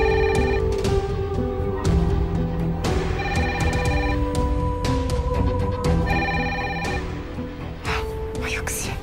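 A telephone rings repeatedly while a house is being called, its electronic ring tones repeating in bursts alongside background music and voices.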